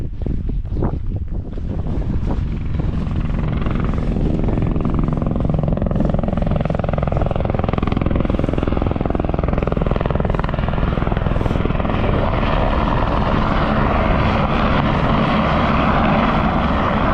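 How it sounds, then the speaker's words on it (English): A helicopter drones loudly and steadily overhead above a mountain ridge in Wales, rotor thrum and engine whine mixed with gusty wind buffeting the microphone, continuous throughout. "Helicopters dropping a lot of stuff up"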